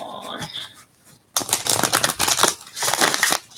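Tarot cards being shuffled by hand, a brief riffle followed by a short pause and then a dense, loud, close run of rapid papery flicks and slaps, with no voices.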